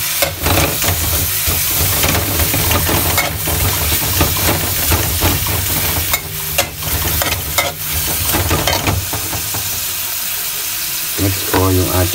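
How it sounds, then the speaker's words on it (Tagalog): Onions fry in a pan for pork adobo, a loud continuous sizzle with frequent stirring scrapes and clatter, and a brief low hum partway through. "Lagay ko na po yung ating sibuyas."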